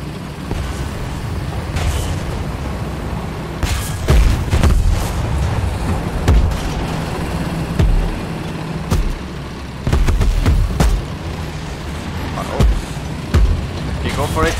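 Tank cannon shots boom from a War Thunder tank football match, several sharp heavy blasts spaced irregularly over rumbling engines, with a player talking throughout.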